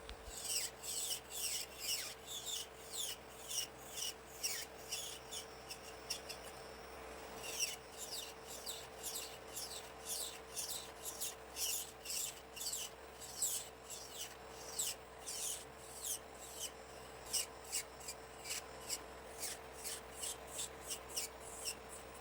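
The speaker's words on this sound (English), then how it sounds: "I really like to practice using my nail drill as much as possible" An electric nail drill files thick hard gel nail extensions in quick, repeated strokes, a soft gritty rasp pulsing steadily over a faint constant whine, close and fairly quiet.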